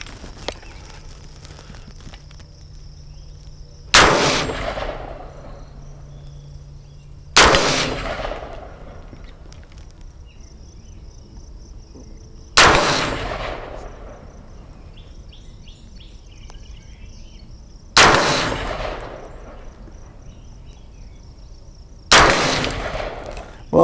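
A 5.56/.223 rifle fires at steel targets outdoors, five loud single shots spaced several seconds apart. Each crack is followed by a long rolling echo and faint metallic ringing from the plates.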